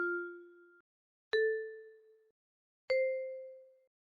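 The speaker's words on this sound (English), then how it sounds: "To hear the sound of the pitch, click on the Boomwhacker." Three separate struck Boomwhacker tones from an interactive app ring out one after another, each a clear resonant pitch that decays quickly, with quiet gaps between.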